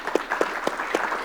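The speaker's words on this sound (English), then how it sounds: "give Blockchain Association a round of applause for putting this together." Audience applause at a Blockchain Association policy summit in New York State, a short burst of clapping with a few sharper claps standing out, fairly faint and steady.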